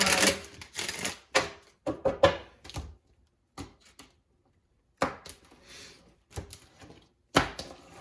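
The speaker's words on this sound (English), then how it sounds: "I'm going to shuffle them again." Quick, crisp bursts of riffling tarot cards come in short clusters separated by pauses, close and fairly quiet.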